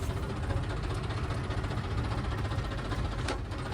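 A John Deere tractor engine runs steadily close by, a dense continuous low rumble and vibration with no speech over it.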